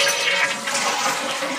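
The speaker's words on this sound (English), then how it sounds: "let's just flush the toilet" A toilet flushing in a bathroom, a loud close rush of water that runs steadily throughout the short moment with no voices.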